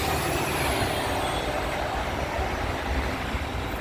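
A Transperth bus passing close and loud, a broad rumbling engine roar with a high hissing whine from the air brakes above it, continuous throughout.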